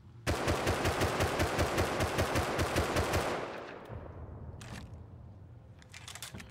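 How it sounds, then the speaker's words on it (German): A slow-firing automatic weapon in the game Rust fires a sustained, evenly spaced burst for about three seconds, loud and close, then stops, leaving a faint rumbling tail and a couple of brief clicks. "das ist quasi Dauerfeuer. Da seht ihr mal, wie langsam das Ding schießt"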